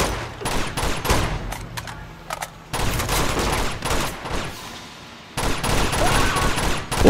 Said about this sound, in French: on s'en fout, on tire dans le tas